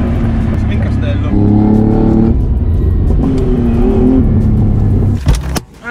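A 2008 Ferrari 430 Scuderia V8 engine runs loud and close, rising and holding in pitch through two revving pushes before easing off, with voices briefly audible near the end.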